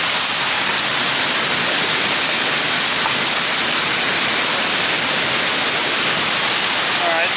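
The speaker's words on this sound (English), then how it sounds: "are at the face of the waterfall." A glacial waterfall roars at close range near Mendenhall Glacier in Juneau, a loud, steady broadband rush that fills the whole stretch without letup.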